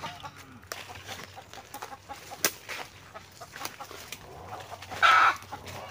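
Chickens cluck softly and sporadically in the background, with one louder, brief squawk near the end amid quiet outdoor rustling.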